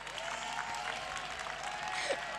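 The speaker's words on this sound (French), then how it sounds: "Un tonnerre d'applaudissements pour Giovanna." An audience at a youth award ceremony applauds a contestant, steady dense clapping from a crowd throughout the short stretch.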